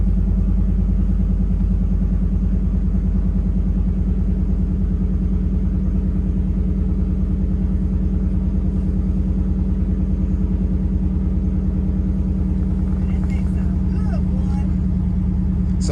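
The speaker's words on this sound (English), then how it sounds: "I'm gonna go ahead and start my truck" Chevy Tahoe truck engine running at a steady idle, a constant low rumble with even pulsing that stays loud and close throughout, while someone talks over it.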